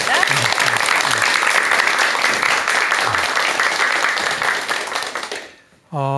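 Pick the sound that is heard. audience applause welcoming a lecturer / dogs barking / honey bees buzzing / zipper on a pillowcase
audience applause welcoming a lecturer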